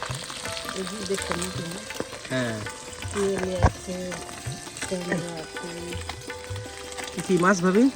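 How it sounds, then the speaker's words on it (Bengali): Fish frying in hot oil for a home lunch in a village kitchen, a continuous crackling sizzle heard under frequent nearby conversation. "এই যে মাছ ভাজা হচ্ছে আমাদের দুপুরে খাবারের জন্য"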